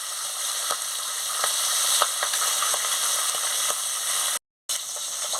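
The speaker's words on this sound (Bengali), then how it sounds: "এবারে এক ধারে মাছটা হয়ে গেছে, আরেক ধারটা উল্টে নিচ্ছি।" Fish frying in hot oil in a wok, a steady bright hiss with faint clicks of turning, close and continuous apart from a brief dropout near the end, no voices.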